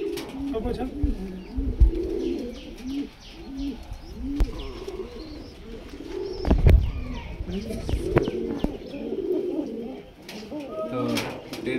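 Low throaty cooing rolls on and off from a pair of pet pigeons at a Krishnagar, Nadia loft, near and steady, while someone speaks intermittently across the birds.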